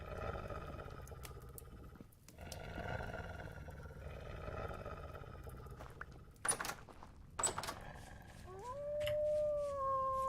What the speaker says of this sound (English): Apparently we had a wolf pack show up.